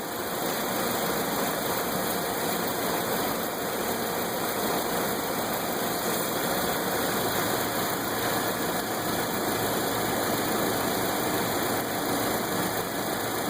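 A 2010 Toyota Corolla with an automatic transmission idles in park, a steady, even engine hum with a faint whine on top, continuous and unchanging at close range with no voices.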